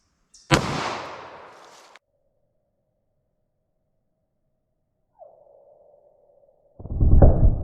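A single sharp, loud gunshot cracks as a Winchester Silvertip round is fired through MDF into gel, its blast decaying over about a second, followed by a thin lingering tone, a brief chirp and another burst of noise at the end.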